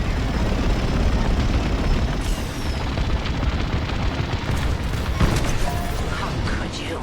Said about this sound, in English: Evac ship destroyed.